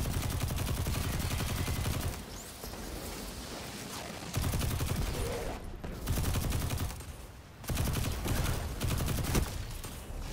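Heavy weapon fire in the video game Destiny 2 rattles in long, dense automatic bursts, loud and close, broken by a few short pauses over roughly ten seconds.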